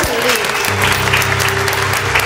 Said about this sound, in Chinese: 给李琦掌声鼓励。